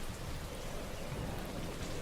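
Steady rain noise with a low rumble of thunder, added as an overlaid effect on game audio, forms a constant dense hiss with no talking.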